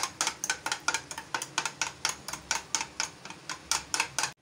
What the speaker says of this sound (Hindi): इसको अब हम अच्छे से फेंट लेंगे।